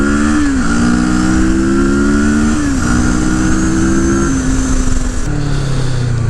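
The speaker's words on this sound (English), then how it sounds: "engine braking there, just a quick downshift into second" A CFMOTO motorcycle engine braking on a quick downshift into second, loud and close, the engine note stepping down in pitch in several distinct drops over a few seconds.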